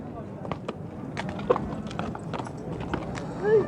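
Horses' hooves clip-clop in an irregular walking rhythm on hard ground at a horse market, with people talking nearby and a brief whinny near the end.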